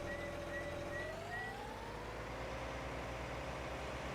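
Case IH Steiger tractor engine in Farming Simulator 19 runs as a steady, loud drone throughout, with a tone that rises as it revs, and a few short beeps early on.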